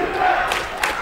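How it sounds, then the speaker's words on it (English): Crowd noise from Hall Dale fans at a high school basketball tournament game in a Farmingdale gym, a broad cheering roar with a couple of louder swells, under a commentator's voice. "You hear the Halldale crowd."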